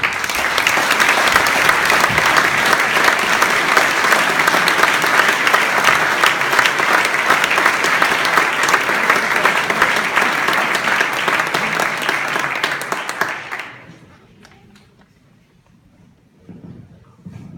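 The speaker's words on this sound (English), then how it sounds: "Just a round of applause." Sustained audience applause at a Bournside school sports awards event, loud and steady for about thirteen seconds before fading into quiet room tone.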